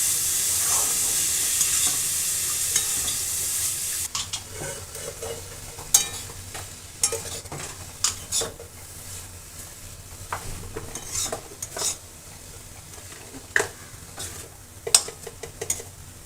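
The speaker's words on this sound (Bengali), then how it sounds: "এটা ভালো করে একটু হালকা করেই নাড়বো, খুব বেশি নাড়বো না।" A spoon stirs a semolina pizza mixture in a pan. A brief sizzle at the start gives way to soft stirring, with scattered sharp clinks and scrapes of metal on the pan at close range. Nobody speaks.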